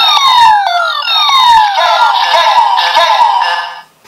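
A loud electronic wailing siren tone from a Kamen Rider Zeztz DX sensor toy, sweeping up and down repeatedly, shrill and piercing, up close.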